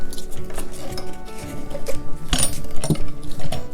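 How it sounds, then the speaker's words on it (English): Folding legs of a DEERFAMY garden kneeler bench being unlocked and flipped: a string of clicks, scrapes and rubbing clatters with a couple of sharp metallic snaps, close by and moderately loud. "Unlock the legs by squeezing the spring handle out from the locking position"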